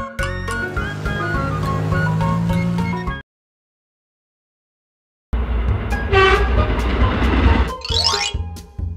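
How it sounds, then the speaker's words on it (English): A commuter train rumbles past with clattering wheels and a sounding horn, cut by a couple of seconds of dead silence before the loud rail noise resumes, including a rising screech near the end. "Commuter train."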